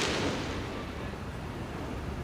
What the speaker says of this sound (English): You know it's almost July 4th when the fireworks start flying in the city.